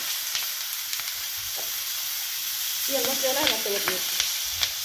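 Oil and tomatoes frying for a green-chili thecha, a continuous close sizzle with scattered stirring clicks and scrapes, a few tonal squeaks toward the end.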